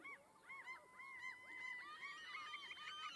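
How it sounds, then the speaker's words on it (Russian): Gulls squabble noisily over water during evening fishing, overlapping harsh honking calls in quick repeated bursts, fairly distant and faint against a quiet background. "чайки шумят, что-то делят"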